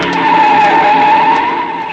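A car speeds past on a city street with its tires skidding, a loud, sustained screech that holds steady for the whole two seconds.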